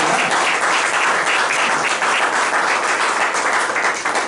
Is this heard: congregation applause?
yes